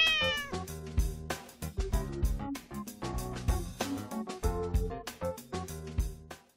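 A cartoon cat lets out a clear, descending meow at the start of a children's language lesson, followed by bouncy instrumental music.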